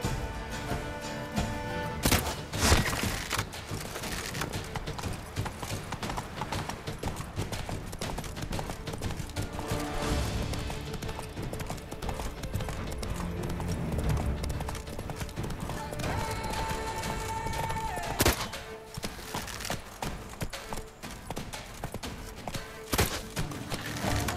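Hooves of the horse Roach clip-clop at a steady gallop in The Witcher 3, a continuous rhythmic pounding over game music and ambience, with a voice speaking briefly.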